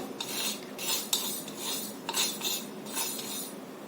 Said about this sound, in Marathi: तवा परत गरम करायला ठेवायचं आणि त्यामध्ये हे मेथी दाणे थोडंसं गरम करून घ्यायचं